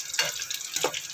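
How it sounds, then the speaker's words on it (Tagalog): French fries frying in hot oil, a steady close crackling sizzle with brief stirring scrapes over a short stretch. "Luto na tayo ng french fries."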